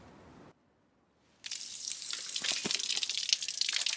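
Bilge water is pumped out of a boat, gushing and splashing steadily after a short silence, a loud continuous watery rush.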